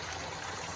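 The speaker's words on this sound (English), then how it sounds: "Water coming out there, and it goes into our tank, which you can see is overflowing" Water pours from a pipe into an overflowing tank at a homestead, a dense, steady rush and splash that is close and constant over a brief moment, with no voices.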